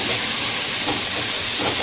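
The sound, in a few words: potatoes frying with turmeric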